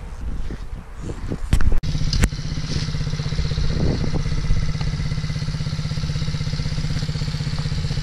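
A small MRF motorcycle engine clatters loudly nearby, with a couple of sharp knocks near the start before it settles into a steady, even putter that keeps running with no talk over it.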